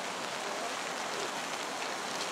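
Rain falling at the Ketchikan cruise ship dock in Alaska in September, a steady dense hiss of drops on hard surfaces all around, even and unbroken with no voices.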